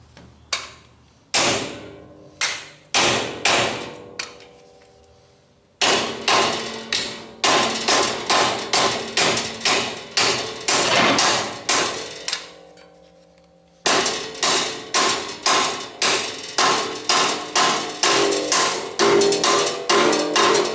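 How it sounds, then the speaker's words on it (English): Hammering sheet metal on a 1962 Comet: loud, close metallic blows struck in steady rapid runs, each with a ringing clang, broken by a few short pauses. "we're going to do it all with a hammer"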